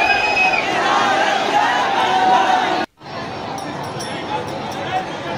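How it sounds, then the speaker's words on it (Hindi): A huge dense crowd at the Radha Rani temple in Barsana during Laddu Holi, a loud continuous roar of chatter and shouting that cuts out briefly before resuming. "ये आप भीड़ देख रहे हैं,"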